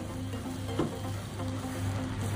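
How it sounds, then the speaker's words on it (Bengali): Semai vermicelli cooks in a pan over a low gas flame while being slowly stirred, giving a soft continuous sizzle with a light scrape midway, close and without voices. "গ্যাসটা লো করে এইভাবে আস্তে আস্তে করে নাড়াচাড়া করে ভালো করে সিদ্ধ করে নিতে হবে সিমাইটা"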